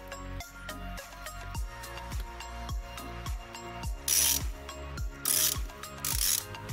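A wrench with a ratcheting action turns a rusty exhaust stud during an exhaust leak repair, making a steady run of sharp, close metallic clicks at a regular pace, with a few harsher grinding bursts toward the end.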